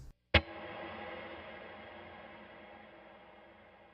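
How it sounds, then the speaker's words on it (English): A single electric guitar note or chord strikes once, then a long reverb wash lingers and slowly fades over several seconds. "then we're going to have a pretty big reverb set sounding like this."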